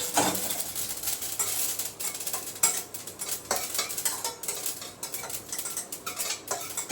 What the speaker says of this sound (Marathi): तीळ घेते भाजून.